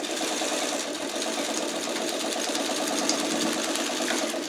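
Close, steady whir and rapid rhythmic chatter of a sewing machine stitching a paper-pieced churn dash mini quilt block, running continuously at even speed with no speech.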